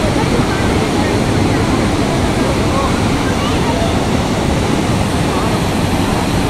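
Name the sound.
waterfall spray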